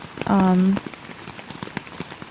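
Rain patters on the woods around a tent at Red River Gorge, Kentucky, a scattered stream of soft close drops, briefly covered by a loud tonal electronic beep.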